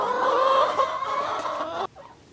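Hens cluck and chatter together in a backyard chicken run, close and lively for a couple of seconds before the sound cuts off sharply, leaving faint quiet clucks.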